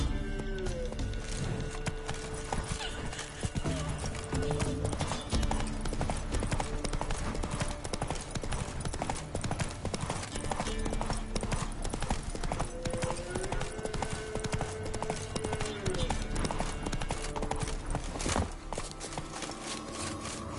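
Roach, the horse in The Witcher 3, galloping with rapid rhythmic clip-clop hoofbeats throughout, loud and close over game music.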